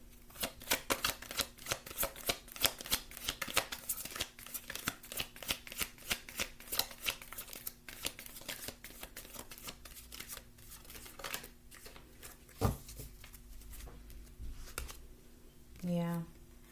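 Tarot deck shuffled by hand in a steady run of crisp, close riffling flicks, a softer burst near the end, with a quiet voice talking underneath.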